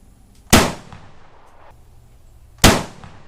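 Two sharp, loud rifle shots about two seconds apart from a desert tan Century C308, an HK91/PTR 91 clone, fired at an outdoor range, each crack followed by a short decaying echo.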